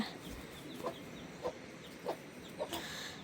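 A rooster covered under a doko basket gives four or five short, faint clucks spaced about half a second apart over quiet rural background noise.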